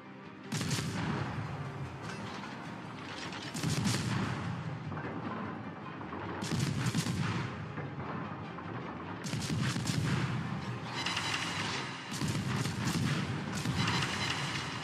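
Naval guns fire from a gunboat in World of Warships, heavy booming salvos arriving in repeated bursts every few seconds, loud and close, with rumbling decay between volleys.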